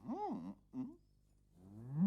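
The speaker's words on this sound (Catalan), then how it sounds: "què és aquest soroll tan espantós? És una vaca." A cow moos twice, a loud drawn-out low call followed by a shorter one, then a rising moo begins near the end, close and clear.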